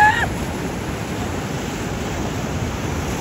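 Sea waves wash in at high tide along a shoreline where the water has risen, a steady broad roar of surf with wind, continuous and fairly loud, preceded by a brief faint chirp at the very start.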